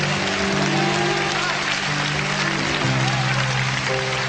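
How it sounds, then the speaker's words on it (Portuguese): A church congregation applauds during a Sunday morning service, a dense, steady wash of clapping that fills the room throughout, with musical tones sustained underneath. "Será que você pode aplaudir ao Senhor nesta manhã?"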